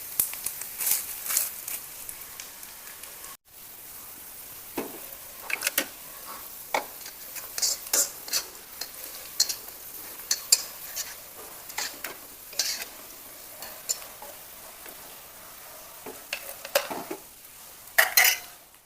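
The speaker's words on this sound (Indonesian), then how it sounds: "Lanjut kita goreng kluweknya sampai benar-benar matang ya" Kluwek is stir-fried in a pan for East Java rawon, a soft continuous sizzle broken by frequent scraping and clicking of a utensil against the pan, close and moderately loud.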